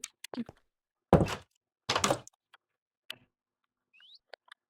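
Wooden door blocks being placed in Minecraft, giving a few short, dry thunks and clicks in a quiet stretch with no talking, the two loudest bunched close together.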